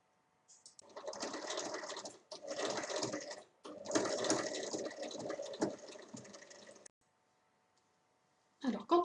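Sewing machine stitching the lining of a fabric smartphone case, running in three close, steady bursts of rapid mechanical clatter separated by short pauses, then a final brief start after a silence.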